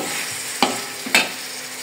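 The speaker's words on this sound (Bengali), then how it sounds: "এই যে কই মাছটা ভাজি করা হচ্ছে মালঞ্চ দিয়ে" Koi fish frying with malancha greens makes a constant crackling sizzle in the pan, with two sharp scrapes of a spatula stirring it.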